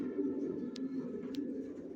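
Racing pigeons in a loft give a steady low cooing murmur close by, with a couple of brief sharp higher chirps or flutters breaking through, and no talking.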